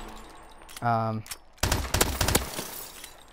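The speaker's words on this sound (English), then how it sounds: "which is a burst fire pistol" Burst fire pistol in Call of Duty Advanced Warfare, a couple of sharp, close bursts of quick shots after a short mechanical tone, with gaps of near quiet between.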